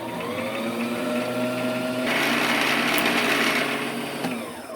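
Sewing machine stitching felt onto a hoodie, a steady close mechanical whir and hum that grows louder and busier partway through, running continuously with no talk.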